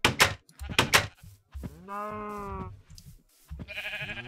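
Sheep in the video game Minecraft bleat in short, close, tonal cries, heard repeatedly amid bursts of clicking and thudding game sounds.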